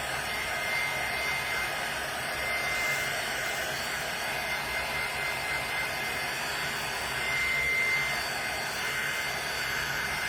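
A hair dryer blows steadily on a turtle craft, giving a continuous close whooshing roar with a faint whine and little change in level for the whole stretch.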